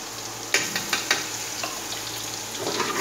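Onions frying in a pan as saag is prepared, a steady close sizzle broken early by a few sharp clacks of a spoon against the pan.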